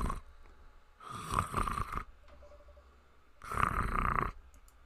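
A person imitates snoring while playing a dating game, making two long, close, rasping snore sounds separated by a quiet pause.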